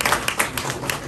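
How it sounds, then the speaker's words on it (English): An audience at a political event claps for a state representative in a short, steady patter of hands that stays moderately loud, with faint talk underneath. "Yes, give him a round of applause."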